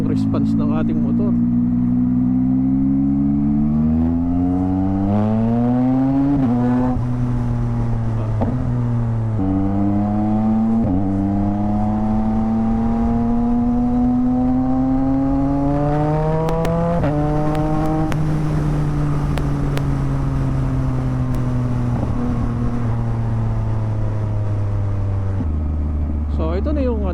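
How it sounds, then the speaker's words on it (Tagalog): A 2023 Yamaha MT-09 motorcycle in sporty mode on a city ride revs up again and again, pitch climbing then dropping with each gear shift, loud and close throughout. "Ganda ng response ng ating motor."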